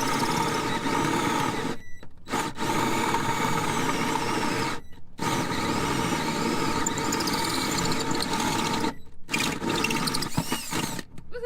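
A loud, steady power tool whines and grinds continuously, broken by a few brief pauses, with no talking, cutting holes in a fiberglass boat on the water.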